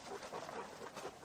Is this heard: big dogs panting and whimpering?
yes